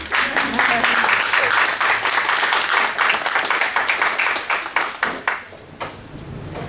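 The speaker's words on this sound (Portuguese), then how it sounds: "Podem aplaudir, por favor." Applause from students at the end of a lecture on citizenship and global ethics at a college-prep course, many hands clapping loudly and steadily before thinning out into scattered, fading claps.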